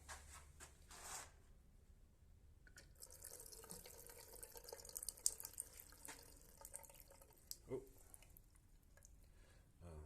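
A water tap opened on a house under construction with Nutec walls, water running with a soft hiss and splash at low level, broken by a few clunks and knocks, with faint voices in the background.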